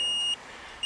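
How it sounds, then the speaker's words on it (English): NOCO GB70 jump starter giving a low-battery warning: a single sharp electronic beep lasting about a third of a second, then a brief quiet gap before another beep begins, close and clear with no talk. "Now it's beeping because there's very low battery or no battery."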